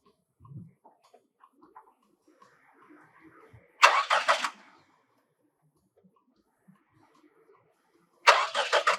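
A car engine is started twice: two separate loud bursts of cranking turn over briefly, with near silence between them and only faint scattered background sounds.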